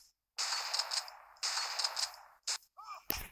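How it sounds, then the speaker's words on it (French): Pump-action shotgun fire in a video game, two loud sustained blasts followed by shorter bursts and a sharp final crack, punchy and close. "Fusil à pompe, bien sûr, bien évidemment, il est lent."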